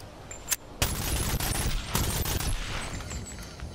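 A few sharp shots and a rattling burst of gunfire from a nearly empty gun in the VR game BONELABS, moderately loud, with short gaps between the reports.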